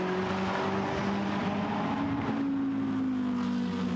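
A GT race car accelerates out of the Lesmo corner at Monza, its engine note climbing steadily through the revs in a loud, close, continuous roar with a rising whine and no voices.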